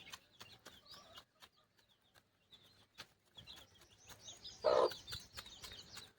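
Village free-range chickens clucking and calling at close range, with scattered sharp chirps and a louder burst of clucking near the end, over a low rural background.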